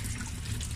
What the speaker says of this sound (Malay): So tuan-tuan dapati lihat itu ada air telah keluar.